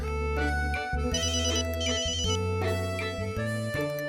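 A phone ringtone plays as a call is placed, giving a loud electronic melody of bright repeating tones with no talk over it.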